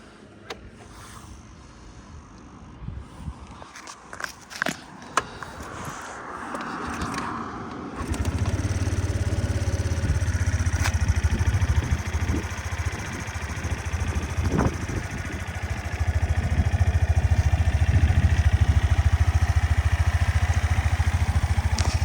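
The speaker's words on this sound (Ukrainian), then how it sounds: "Чистенько, рівно двигунчик працює." A Suzuki Address V 125 S scooter starts after some clicks and handling noises, then idles with an even, steady low engine hum close by for the rest of the stretch.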